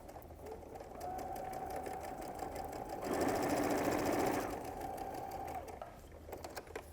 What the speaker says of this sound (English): And I'm going to sew these two pieces together.